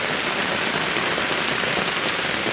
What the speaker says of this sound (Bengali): বৃষ্টির আওয়াজ অবশ্যই শুনতে পারতেছেন